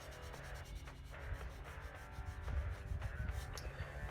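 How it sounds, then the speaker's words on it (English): An alloy wheel is hand-sanded with 180-grit sandpaper, and fingertips work into pitted spots and tight spaces. Soft, steady rubbing and scratching sounds close by and fairly quiet, with no talking. "So back to more sanding with the 180 grit."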